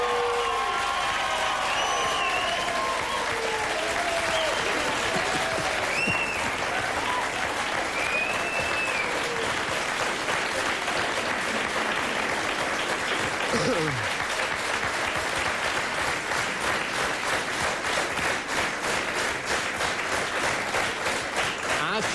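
Sustained applause from a studio audience at the Hungarian TV show Heti Hetes, a dense, even wash of clapping that runs steadily throughout with some faint cheering and voices mixed in.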